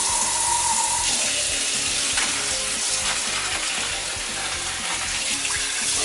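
Cooked spinach strained in a kitchen for japchae noodles, hot water pouring and draining in a continuous loud rushing splash with no pause.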